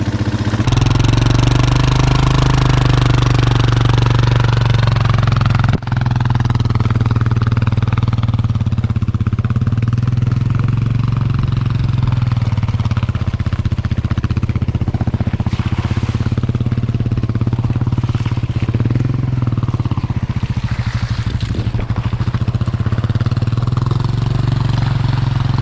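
Motorcycle engine running steadily on a trail while one bike tows another. The drone stays loud and close for about 25 seconds, with clatter and small throttle shifts and no clear speech.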